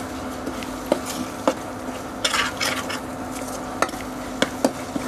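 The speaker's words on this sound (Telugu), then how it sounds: "రోటిలో కచ్చాపచ్చాగా చేసుకున్న చింతకాయ పేస్ట్ని వేసుకుని బాగా కలుపుకోవాలి" Coarse tamarind paste being stirred into fried onion-masala paste in a pan, with a spoon sharply tapping the pan at intervals over a soft sizzle and a brief rush of scraping mid-way.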